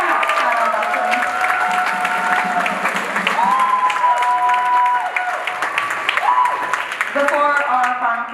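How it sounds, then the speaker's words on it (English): High school spring concert audience applausing steadily, a dense sustained wash of clapping from a crowd, with sustained tonal sounds and a loud voice over it. "Another round of applause for that fabulous"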